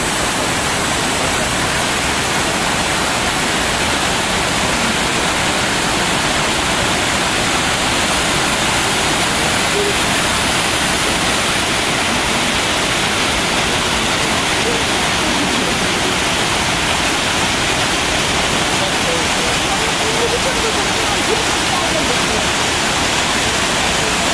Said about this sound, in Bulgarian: Това е един от водопадите.